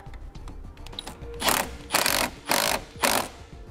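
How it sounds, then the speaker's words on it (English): A ratchet tightens the nut on a positive battery post of a 2018 Chevrolet, giving four evenly spaced bursts of clicking, close and fairly loud, after a short stretch of quieter handling noise. "we'll tighten down the nut"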